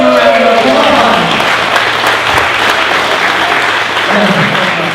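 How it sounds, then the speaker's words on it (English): Audience applause for 94-year-old O'Neill at a Corvette dream giveaway award ceremony, a steady, dense wash of clapping lasting throughout, with a low hum and voices faintly underneath. "Let's give him a round of applause."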